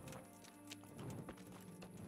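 Horse hooves clip-clop quietly in a fast, uneven patter in the medieval role-playing game Kingdom Come Deliverance. The sound is faint and sits under game ambience.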